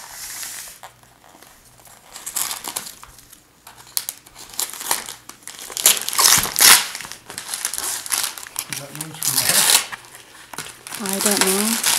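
Wrapping paper crinkles and tears as birthday presents are unwrapped, with bursts of loud crackling and ripping that rise and fall over several seconds, while voices speak between and over the rustling.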